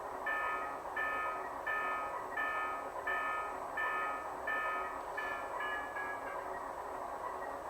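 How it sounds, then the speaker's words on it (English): An electronic locomotive bell of the type common on Alaska Railroad engines, from a model train sound system, rings in a steady repeating clang, about one strike per second, clear and close over a constant low hum. "we've also added in an E-bell, and this bell is very common on Alaska Railroad"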